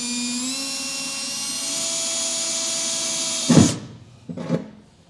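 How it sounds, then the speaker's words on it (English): A drill bores a small pilot hole into the frame of a 2015 Chevrolet Silverado truck for a B and W 5th wheel hitch rail kit, a steady high whine that cuts off, followed by two short bursts. "you can get a small pilot hole drilled straight on"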